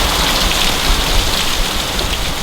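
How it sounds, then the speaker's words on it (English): Rain falling on an August day in Alabama, a dense, loud, continuous hiss of drops hitting surfaces close by, steady and unbroken with no voices. "So it started raining on me."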